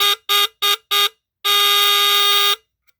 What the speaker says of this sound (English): So it basically emits a low power, low sound DC squeal.